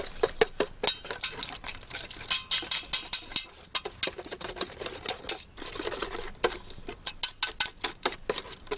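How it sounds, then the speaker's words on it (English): Sour cream being whisked into a mixture gives quick, rhythmic clicking taps of a whisk against a bowl, close and continuous with a brief pause partway through, with no talk. "Mix it in steadily, which I'm going to whisk in."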